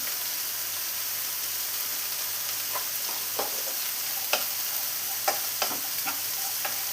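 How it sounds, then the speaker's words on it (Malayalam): Onions sautéing in a pan of tomato and salt for a paneer mushroom masala, a steady soft frying hiss with scattered light clinks and scrapes of stirring, heard alone. "ഇനി സവാള എല്ലാം ഒന്ന് കളർ മാറി വരുന്നവർ വഴറ്റിയെടുക്കണം"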